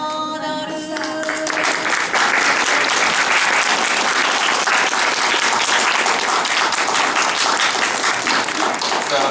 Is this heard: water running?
no